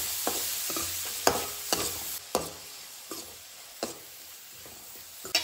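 Finely chopped onions sizzling in hot oil with cumin, urad dal and fenugreek seeds, a steady fry punctuated by repeated sharp scrapes and taps of a stirring spoon.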